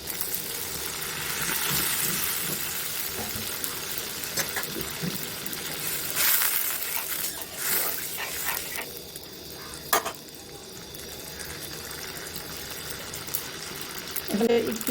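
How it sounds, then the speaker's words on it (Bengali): Spice paste in a hot pan for an egg curry bubbling and sizzling after a splash of water goes in, a continuous hiss with occasional stirring scrapes, fairly soft and close. "এই পর্যায়ে আমরা একটু পানি দিয়ে নেব"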